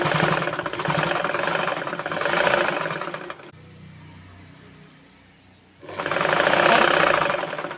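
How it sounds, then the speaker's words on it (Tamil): Sewing machine stitching a dress being shortened, running in two loud steady bursts with a pause of near silence between them. "தைக்கும்போது கொஞ்சம் ஃப்ரீயாக விட்டு தைக்கணும்"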